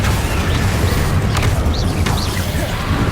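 A Confringo blasting spell explodes in Hogwarts Legacy on PS5, giving a loud, sustained rumbling boom with crackling debris that fills the whole stretch, with no voices.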